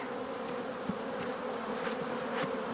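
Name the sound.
honeybees buzzing at an opened hive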